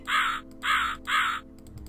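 A crow in the video game Rusty Lake Hotel caws three times in an even rhythm, harsh and loud over a low, steady game music drone.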